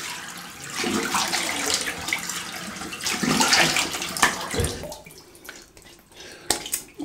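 A Claymore Evolution SE safety razor is rinsed under running water, a continuous splashing gush that thins out toward the end, with a few clicks and taps and no talking.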